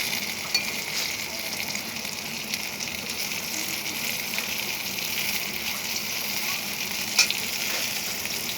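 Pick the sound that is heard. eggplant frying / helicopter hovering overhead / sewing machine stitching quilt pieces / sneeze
eggplant frying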